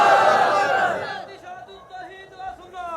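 A crowd at a religious sermon roars a Takbir slogan in unison, a loud, dense burst of massed voices that fades after about a second into quieter speech and background murmur.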